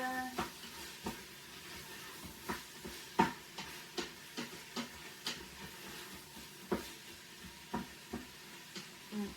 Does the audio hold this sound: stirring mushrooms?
yes